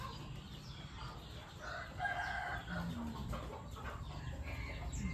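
A fighting rooster crows faintly in the distance on a gamecock farm, with other hens clucking softly amid a low outdoor background hum.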